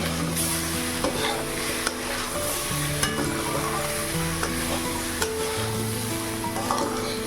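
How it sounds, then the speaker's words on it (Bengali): Dal and vegetables frying and being stirred in a pan for Gobindobhog rice khichuri, a steady close sizzle with scattered scraping stirs throughout, tonal background hum underneath, no talk. "চলুন এটাকে এবার হালকা করে ভাজা"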